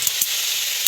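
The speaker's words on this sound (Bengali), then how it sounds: "কড়াইতে তেল দিয়ে এখন ওই কুমড়ো শাক কুচইয়া তেলের মধ্যে দিয়ে ভাজা ভাজা করব" Chopped pumpkin greens hit hot oil in a wok, giving a steady, fairly loud hiss and sizzle with a couple of brief crackles, close by and without speech.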